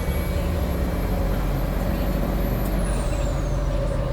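A Ford Powerstroke diesel truck drives through a heavy rainstorm, its engine and road noise forming a continuous, even roar.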